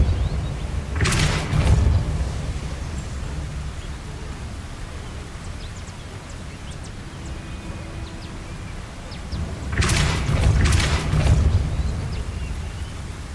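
Two bursts of the Depulso spell effect in Hogwarts Legacy, each a loud whooshing blast with a booming low end, about nine seconds apart, separated by quieter ambient game sound.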